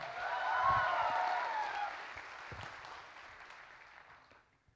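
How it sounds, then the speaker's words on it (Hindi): Crowd applause at a Bengaluru community program for an August 15 celebration, a broad burst of clapping that peaks early and then slowly tapers off over about five seconds, with faint voices underneath. "तालियां।"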